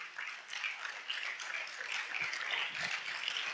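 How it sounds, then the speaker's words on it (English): A church congregation applauding together, a dense, steady wash of hand claps holding at moderate volume for a few seconds, slightly distant and roomy. "Let's give God a great hand clap of praise for today."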